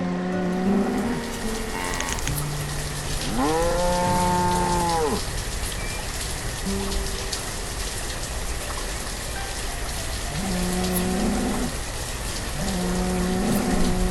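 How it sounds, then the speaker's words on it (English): Cows moo several times, long drawn-out calls over a steady wash of rainfall, with no talking, in the video game Banished. "The rain falling, the cows mooing."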